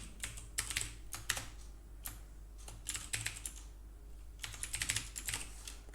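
C++ code is typed on a computer keyboard in quick bursts of close, crisp key clicks separated by short pauses over a faint low hum, with no voices.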